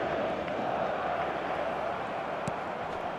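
A stadium crowd roars in eFootball 2026, a broad, steady wash of many voices held at a constant level, with one brief sharp knock partway through.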